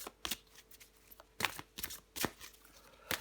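Tarot cards being shuffled and drawn, several crisp riffling bursts and soft card slaps spaced irregularly, close and quiet with no talk.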